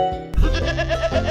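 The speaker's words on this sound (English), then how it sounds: "Sheep." A single sheep bleats once, a loud, close, wavering cry lasting about a second.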